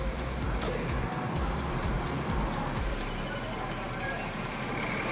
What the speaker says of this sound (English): Please excuse the noise in the background. There are trucks outside